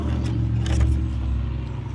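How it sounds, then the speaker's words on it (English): A fast truck passes by outside, a steady low broadband road rumble with a brief swell in the middle, heard indoors at moderate distance with no voices. "That was a pretty fast truck that just drove by."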